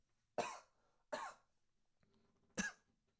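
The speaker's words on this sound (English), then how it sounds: "Coughing up a storm." Three separate dry coughs from one person, close but fairly quiet, spaced about a second apart with near silence between them.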